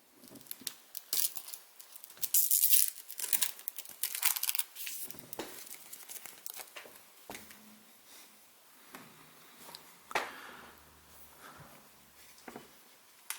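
Plastic protective film peeled off a Hikvision DS-2CD2185FWD-I 8MP 4K IP dome camera, with close crinkling and tearing in bursts of varying loudness, quieter handling toward the end.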